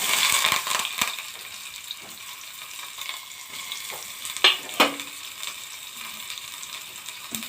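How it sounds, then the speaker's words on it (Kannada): Onion and curry leaves sizzle steadily in hot oil with mustard seeds and cumin, tempering for a North Karnataka vegetable dish, with a few sharp stirring scrapes and crackles near the pan. "ಆಮೇಲೆ ಉಳ್ಳಾಗಡ್ಡಿ ಕರಿಬೇವು ಒಗ್ಗರಣೆಗೆ."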